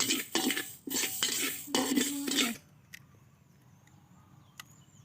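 Rice being dry-roasted and stirred in a pan for Phu Thai om soup, giving scraping, rattling stir strokes for about two and a half seconds, then quiet with a couple of faint clinks.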